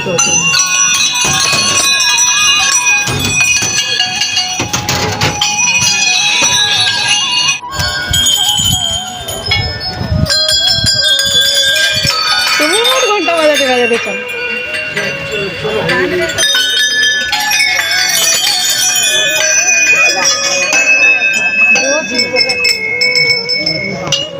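Temple bells ring continuously at a puja in Jharkhand, loud and layered with clanging metallic tones, while voices and other ritual sounds mix in throughout.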